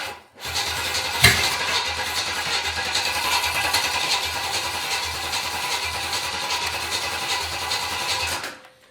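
An old junk car motor runs loudly and steadily at close range, rough and droning throughout, with one sharp crack near the start before it settles into a continuous roar and then cuts off.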